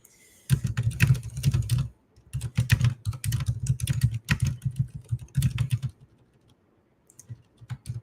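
Rapid clattering keystrokes on a computer keyboard come in bursts of fast typing with short pauses, close and crisp, ending in a brief silence before a final tap.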